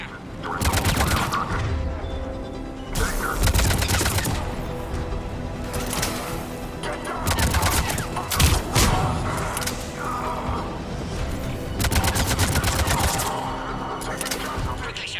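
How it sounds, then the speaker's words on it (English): Repeated bursts of automatic gunfire at a checkpoint in Mass Effect 3 Legendary Edition on PS5, loud rattling volleys and cracks recurring throughout, with voices speaking between shots. "Cerberus troops at checkpoint, attempting to kill Krogan. Need assistance. I see the checkpoint. They're under fire."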